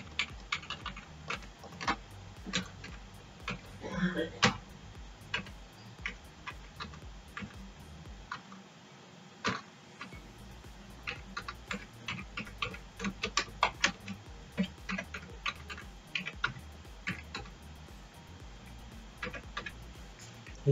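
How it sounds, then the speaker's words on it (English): Computer keyboard typing as a contact number is entered into a Microsoft Word business card layout: irregular bursts of close, crisp key clicks with short pauses between runs, no talking. "I type this contact number here"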